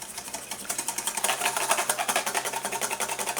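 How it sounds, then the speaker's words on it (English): A whisk beating egg yolk and salt in a bowl, making rapid, even, rhythmic scraping taps close by with no talk over them. "Take an egg, we'll add the yolk to the bowl, big pinch of salt, and start whisking."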